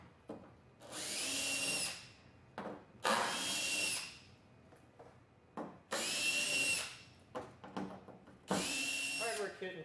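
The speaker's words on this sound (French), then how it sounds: "Assurez-vous de limiter le couple de votre perceuse ou de tout autre outil électrique" A power drill drives screws while a drop-in bedliner goes into a 2015 Ford F150. It comes in four loud, sustained whirring bursts, each about a second long, with quieter clicks and handling noises between them.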